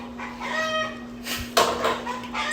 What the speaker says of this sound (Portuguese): agora o barulho é de galos e galinhas no quintal